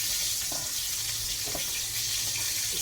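Flour-coated chicken fries in a pan with a constant hissing sizzle and a few soft pops and splashes.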